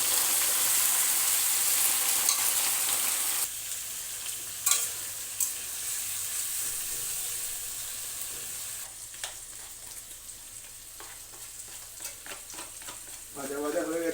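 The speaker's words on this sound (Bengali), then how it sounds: "ভাজা ভাজা হয়ে গেছে ক্যাপসিকাম পেঁয়াজ।" Capsicum and onion fry on full flame for chilli fish: a loud, close sizzle that drops in level after a few seconds, with spatula stirring and scraping against the pan continuing throughout.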